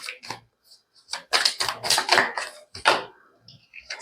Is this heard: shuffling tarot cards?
yes